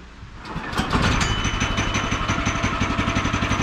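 The pull-start gas engine on a portable sawmill catches and fires up, then settles into a fast, steady, chugging idle that stays close and loud to the end.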